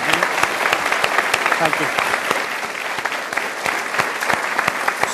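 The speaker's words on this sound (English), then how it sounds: "Can we get a big round of applause for Stephen first?" A school audience claps loudly for a guest, a dense burst of sharp individual claps from a room full of students that keeps going for several seconds, with a brief spoken thanks over it.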